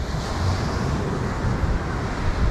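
Ocean waves wash onto a beach in a continuous, broad rushing roar with wind buffeting the microphone, steady and loud throughout with no voices.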